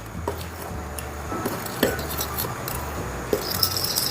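Spoon clinking and scraping in a bowl while powdered sugar and evaporated milk are mixed into a glaze, soft irregular taps and a couple of sharper clinks over steady background hiss.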